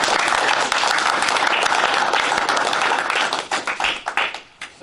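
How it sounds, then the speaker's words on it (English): A hall audience at a township meeting gives scholarship winners and their parents a big round of applause, loud dense clapping that thins into scattered claps and fades at the end. "If we could just please give them and their parents a big round of applause"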